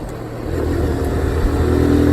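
A Kawasaki Z125 motorcycle engine revs hard in second gear up to 8000 rpm, with a steady rising buzzy drone heard close throughout.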